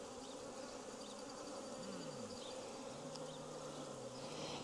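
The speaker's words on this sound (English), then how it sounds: "now I've got my bees in there" Honeybees buzzing while trapped inside a bottle, a dense continuous drone with wavering pitch as individual bees shift, close and fairly faint.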